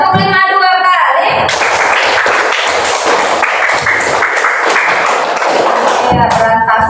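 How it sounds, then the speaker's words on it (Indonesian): Children in a classroom clapping game clap their hands together in a dense, sustained burst of many quick claps that lasts several seconds, following a brief stretch of voices and then fading back to voices. "Tepuk 5 2 kali."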